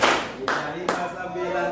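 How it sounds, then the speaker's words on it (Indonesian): A school class in a chemistry lesson clapping hands together in a patterned rhythm game, with a few sharp, close claps marking the beat while voices speak over them. "359 tepuk tangan."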